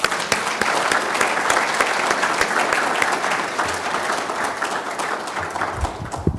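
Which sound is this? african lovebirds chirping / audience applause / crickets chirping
audience applause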